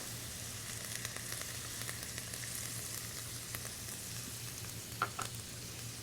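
A tomato and cream sauce simmers and reduces in a pan. A quiet, even sizzle and bubbling runs throughout with faint background hum and a couple of light clinks near the end, with no talk.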